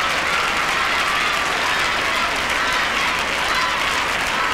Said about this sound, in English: big cheers from the crowd for the first Spanish girl of the day